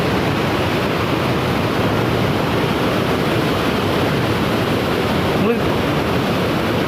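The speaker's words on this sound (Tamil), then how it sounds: "பா எவ்வளோ தண்ணி போகுது பாருங்க." Broad, steady rushing of a fast river running full near Anthiyur on the way to Erode, a constant loud wash with no break, heard close and alone.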